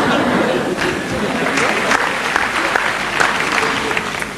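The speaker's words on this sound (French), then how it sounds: "Il y en a qui s'applaudissent eux-mêmes." A live comedy audience at the Olympia in 1991 gives loud, continuous applause, a dense crowd of clapping hands close and sustained throughout.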